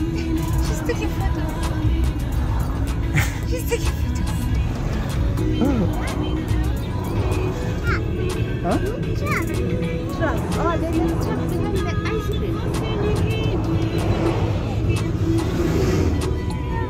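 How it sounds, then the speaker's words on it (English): A truck rolls past on a busy road, a steady low engine rumble and tire roar holding for the whole stretch, mixed with general traffic noise and the chatter of people and someone talking close by. "It's a truck."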